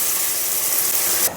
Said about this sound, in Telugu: ఇప్పుడు వాటర్ మరుగుతున్నాయి.